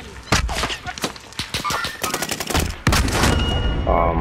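Rapid gunfire in a Call of Duty match, a close, loud stream of sharp shots in quick bursts followed by heavier blasts, with a voice talking between them.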